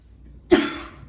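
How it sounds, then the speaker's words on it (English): A single sharp adult cough bursts out close to the microphone, then trails off quickly into quiet. "first time I've coughed in all of the things"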